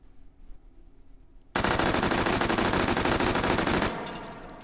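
A UMP45 submachine gun fires full-auto in a VR game until the magazine runs dry: a sudden, loud, rapid stream of shots lasting about two seconds, then a fading ring-out with light mechanical clicks.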